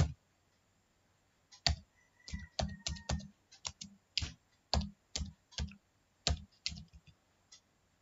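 Clicky typing on a computer keyboard, irregular bursts of crisp keystrokes close to the microphone with short pauses between words, in an otherwise quiet room.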